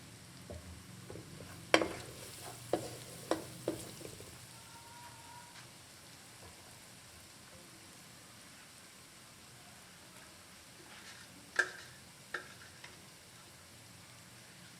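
Masala spices with garam masala and green chilli fry quietly in a pan for a brain masala dish, under a soft, steady sizzle punctuated by a few sharp scraping clinks of stirring.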